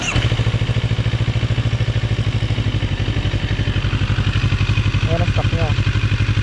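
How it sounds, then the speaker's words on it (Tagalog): CFMoto NK400 motorcycle with its stock exhaust idling on a warm engine, a loud, close, steady pulsing thrum with an even, rapid beat throughout and a brief voice near the end. "Nakalimutan ko iparinig sa inyo yung stock exhaust na ito using GoPro."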